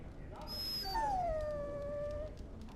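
A dog in the fantasy video game Dragon Age: Origins whimpers and whines in a long, high, wavering cry over a low background hum, fairly close and clear.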